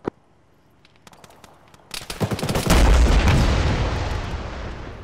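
Video game gunfire at a BTR armored vehicle: a sharp shot, then a ragged run of cracking rounds that builds into a loud, rolling explosive roar and lingers as a long, dense rumble.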